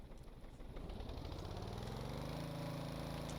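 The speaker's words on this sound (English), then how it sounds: "So we have this engine up and running pretty well. Let's try to throttle up." A simulated engine in the Stormworks game throttles up, its low drone rising steadily in pitch and strength over a few seconds, heard alone and close.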